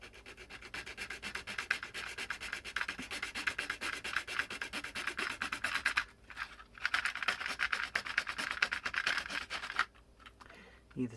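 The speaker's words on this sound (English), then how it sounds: "a little junior hacksaw blade and just hacksaw that" A junior hacksaw blade cuts through a Raspberry Pi amp board in steady, close, rasping back-and-forth strokes, with brief pauses near the middle and the end.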